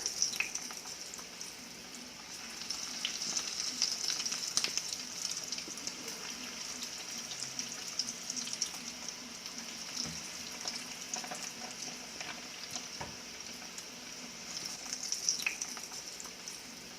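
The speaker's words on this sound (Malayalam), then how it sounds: "ഓയിൽ ചൂടായി വന്നിട്ടുണ്ട്. ഇനി നമുക്കിതൊന്ന് ഫ്രൈ ചെയ്തെടുക്കാം." Chicken bread box snacks fry in hot oil in a pan, a steady close sizzle with bubbling crackle that swells and eases over the whole stretch, no voices.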